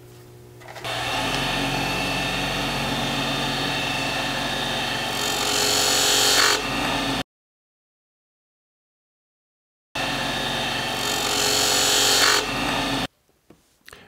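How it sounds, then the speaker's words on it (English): Woodturning cut with a detail gouge on a spindle lathe: a steady, loud whirring scrape of the tool on spinning wood, running for several seconds, stopping abruptly, then resuming for a second pass. "Let's see how much sharper we can get with our detail gouge."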